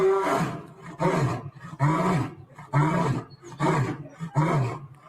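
Recorded lion roars played back, five or six deep rhythmic roaring grunts in steady succession, loud and close with short pauses between each, no talking over them.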